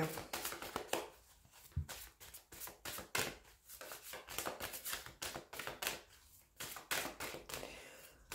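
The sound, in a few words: shuffling tarot cards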